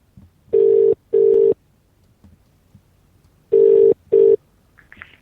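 A telephone line rings out while a caller waits to be connected to a company switchboard: two loud double-ring bursts of steady tone, a pause of silence between each pair, with faint line noise afterward and no voices.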